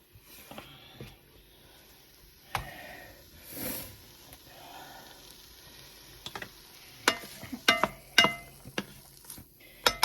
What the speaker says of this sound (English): We are going to add 1 onion, 2 stalks of celery. Get that sauteed up.